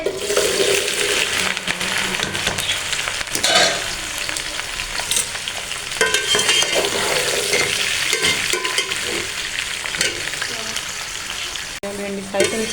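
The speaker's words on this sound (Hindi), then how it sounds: "ये देखो हमारी भिंडी फ्राई हो रही है।" Okra (bhindi) frying in hot oil in a pan for masala bhindi, a steady loud crackling sizzle throughout with occasional stirring scrapes, no talk.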